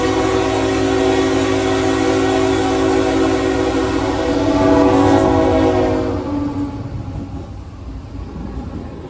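CN 3008, an Illinois Central Heritage locomotive, sounds its horn in long loud sustained tones over the rumble of the passing train, then the horn stops and the rolling rail noise continues more quietly.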